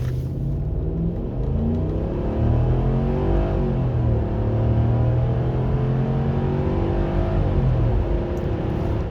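A 2002 Mercedes ML55 AMG SUV accelerates hard from standstill toward 100 km/h, its engine droning loud and close with rising pitch through several gear changes.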